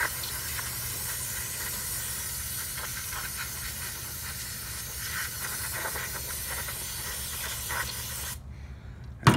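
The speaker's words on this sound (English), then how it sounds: "I'm gonna go ahead and spray this float bowl off again." Aerosol cleaner hisses continuously onto the float bowl of a 1997 Honda CR250R carburetor, a steady close spray lasting about eight seconds with slight pulses before stopping abruptly.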